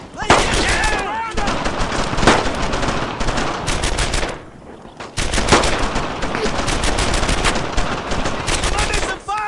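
Heavy sustained gunfire in the WWII shooter Brothers in Arms: Earned in Blood, with dense bursts of rifle and machine-gun shots close by, a short lull midway, then renewed firing with sharp individual cracks.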